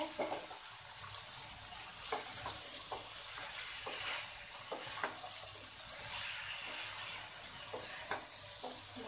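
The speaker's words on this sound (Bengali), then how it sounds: "জল শুকিয়ে গেছে কিনা দেখার জন্য আমি ঢাকনা খুলে আবার একটু নেড়ে দেব।" Vegetarian jackfruit curry is stirred in an uncovered pan, a steady soft sizzle of frying with scattered spoon scrapes, close but low in level and without speech.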